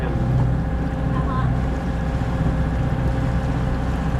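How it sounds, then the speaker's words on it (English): A sailboat's engine runs at sea near the Greek Cyclades, a loud, steady low drone with a constant mechanical hum and light wind noise over the microphone. "I'm going to start the engine now"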